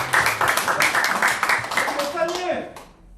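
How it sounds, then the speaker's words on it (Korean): A church congregation at a Korean prayer service claps in quick, rhythmic bursts that are fairly close and loud, then fades out as a voice begins speaking near the end. "우리 하나님께 영광의 박수"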